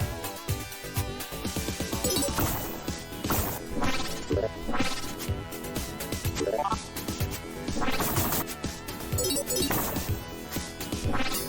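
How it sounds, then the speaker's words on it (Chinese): Clay pots shatter in a video game, several crashing breaks landing amid dense, busy game music and effects that continue throughout. "这里的罐子都打碎了"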